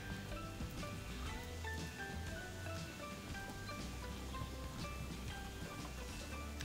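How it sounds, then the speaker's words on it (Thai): Mulberry juice boils down in a pot, a dense, steady bubbling and popping like rain on a surface that holds at an even level throughout, close and unbroken. "ต้มไปเรื่อยๆจนกว่ามันจะงวดลงไปกะว่าน้ำก็ลงไปจากเศษ1/3"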